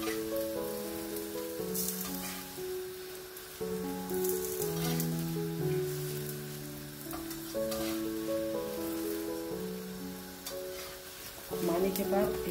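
An aloo paratha sizzles and crackles in oil on a griddle, a soft, steady frying hiss that runs under background music.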